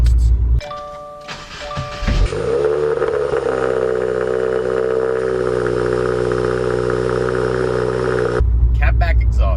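A car with an aftermarket catback exhaust chimes, then cranks and fires up, settling into a loud, steady idle heard close before it cuts off, with some speech in the background.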